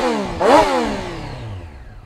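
A Triumph Street Triple 765 R motorcycle engine revs sharply with intake roar from the airbox, rising quickly to a loud peak and then falling away in a long descending whine.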